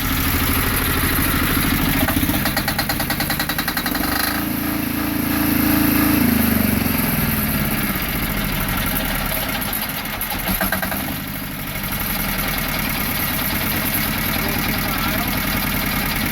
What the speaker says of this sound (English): That diesel in there sure makes it shoot, Jake.